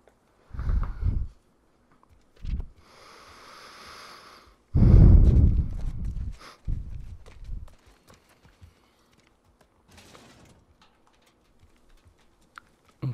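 A horse in The Last of Us Part II moves in irregular clip-clop bursts, with a louder stretch of hoof thuds in the middle, a possible snort, and long quiet gaps between.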